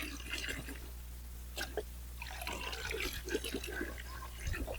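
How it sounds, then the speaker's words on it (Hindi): Water mixed with vegetable liquid fertilizer being stirred and beaten vigorously in a garden container, with soft irregular splashes and sloshes close by over a low steady hum. "पानी को फेंट रहे हैं, खूब अच्छे तरीके से फेंटना है।"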